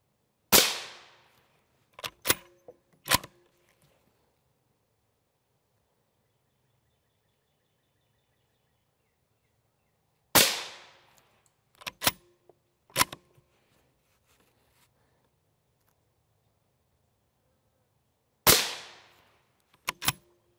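5.56 rifle rounds fired at Tacticon Armament Level III+ steel body armor in three spaced groups: each has a sharp outdoor crack with a ringing tail, followed by a few quick, snappy impacts.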